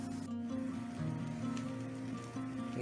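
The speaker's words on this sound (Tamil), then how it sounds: "ஸோ இந்த மாதிரி நம்ம இந்த உருண்டையெல்லாம் பொரிச்சு எடுத்துக்கணும்." Potato balls deep-fry in oil in a kadai, a steady close bubbling sizzle that holds throughout with faint clinks, alone without talk.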